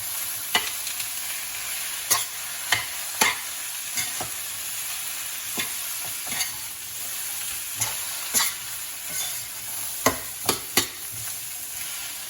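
A spoon scrapes and taps through potato masala in a hot pan, with a steady sizzle of frying underneath. The stirring strokes come at irregular intervals, close by and clear, with no talking.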